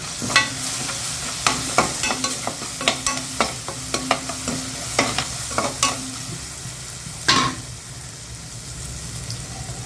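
A spoon scrapes and stirs turmeric powder in a sizzling pan for fish curry, with a series of sharp clinks and a steady frying hiss underneath.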